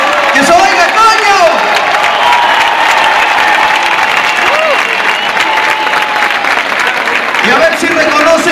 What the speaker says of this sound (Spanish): Un muy fuerte aplauso para él, músico local.